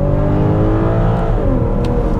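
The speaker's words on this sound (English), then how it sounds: "I'm gonna give it some gas here." A 2022 BMW X5 sDrive40i accelerating hard in comfort mode, heard from the cabin as a loud, steady engine drone with climbing harmonics over road noise.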